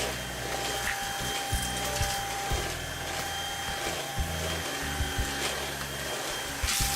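A Greenote GSC50 cordless vacuum cleaner runs steadily on low power, a constant close whir with a high-pitched motor whine and small rattling ticks as debris is sucked up.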